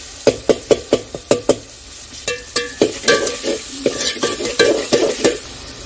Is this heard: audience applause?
no